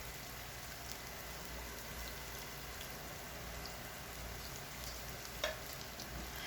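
Finely chopped garlic fries with onions in a pan, giving a faint, even sizzle that holds steady throughout with one brief clink partway through.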